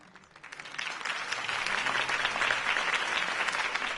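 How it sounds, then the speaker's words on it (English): A crowd bursts into sustained applause after a campaign speech for Harvey Dent in a Batman video game, the dense clapping swelling quickly from a quiet start and holding loud and even. "could have heard that applause"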